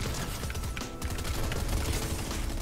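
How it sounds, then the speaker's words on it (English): Gunfire in the Fortnite video game, a dense continuous spray of shots and explosions filling the whole stretch at a steady, fairly loud level without speech. "Oh, we're getting shot."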